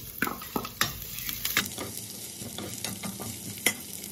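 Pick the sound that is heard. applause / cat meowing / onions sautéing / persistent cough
onions sautéing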